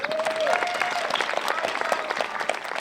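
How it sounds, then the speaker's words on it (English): Audience applause at an outdoor climate festival, a steady wash of clapping from a modest crowd lasting the full stretch, with a faint whistle or cheer near the start. "Could we please give her a round of applause?"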